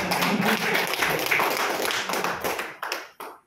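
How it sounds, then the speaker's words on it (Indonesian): Clapping from the audience at a company orientation workshop, a brisk burst of many hands that thins out and ends in a few scattered final claps, moderately close. "Oke, tepuk tangan."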